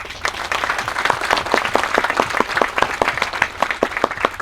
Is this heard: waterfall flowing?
no